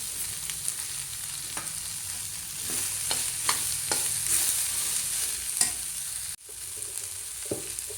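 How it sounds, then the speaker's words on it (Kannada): Onions fry in a pan with a soft, continuous sizzle while a spoon stirs them, scraping and clicking against the metal in irregular bursts. A brief quieter moment comes near the end. "ಒಂದು 5 ನಿಮಿಷ ಚೆನ್ನಾಗಿ ಹುರ್ಕೋಬೇಕು."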